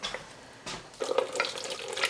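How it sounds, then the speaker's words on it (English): Water drained off boiled lemon peel for homemade strawberry lemon marmalade, heard as a soft, steady splashing pour that picks up after a brief pause and runs on close by. "So now we drain the water off."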